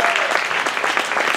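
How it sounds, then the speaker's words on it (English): Audience applause fills a church during a sermon: a dense, steady wash of many hands clapping at once, close and loud, sustained without a break. "a clap of appreciation"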